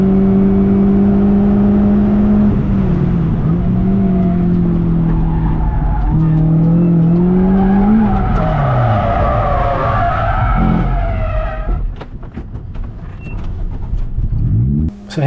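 A mid-engined Lotus skids through a spin on a race track, tyres squealing loudly over the engine's whir for several seconds before it fades and the car comes to a stop.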